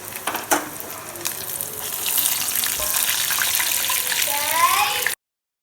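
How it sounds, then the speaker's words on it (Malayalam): Chicken pieces frying in hot oil for a fried chicken dish, a close, steady sizzle that builds after a couple of seconds and runs continuously before cutting off abruptly. "അപ്പം ഇതുപോലെ നമുക്ക് ബാക്കിയെല്ലാം ഒന്ന് പൊരിച്ചെടുത്ത് വയ്ക്കാം."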